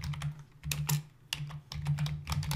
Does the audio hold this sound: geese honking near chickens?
no